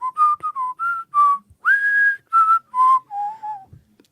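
A person whistles to imitate goliaths whistling during a Dungeons & Dragons tabletop game: a run of about nine short, clear, tuneful notes at varying pitches, close and alone.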